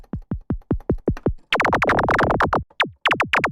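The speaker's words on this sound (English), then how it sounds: "So we have like an old school electronic kick drum sound." A synthesized old-school electronic kick drum hits repeatedly, each short punchy thump sweeping sharply down in pitch, first in a quick steady run, then in denser, brighter bursts layered with a laser-like zap, close and loud.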